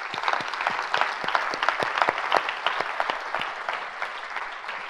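Church congregation applauding during a worship service, dense steady clapping from many hands throughout, fairly close and lively, with no clear talk over it.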